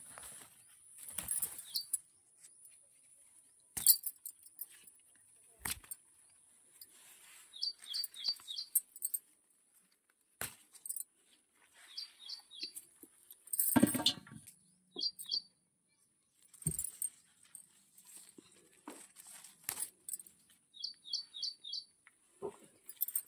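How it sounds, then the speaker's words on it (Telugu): Sparrows chirp in a vegetable garden during a harvest, short bright chirp bursts coming in scattered clusters between soft rustling and handling noises, fairly near and moderately loud, with no talking. "పిచ్చుక సౌండ్ వినిపిస్తుందా మీకు?"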